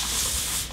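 Liquid leather bike shorts rub against themselves, producing a brief, close, dense swishing friction sound that lasts under a second.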